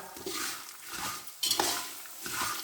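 Raw peanuts being stirred while roasting in a pan, with soft repeated scraping strokes of a utensil against the metal and a faint dry sizzle, close and fairly quiet.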